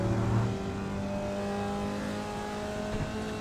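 A Formula Vee race car in iRacing accelerates at Oulton Park with a steady, droning engine note held loud and close throughout, no voices.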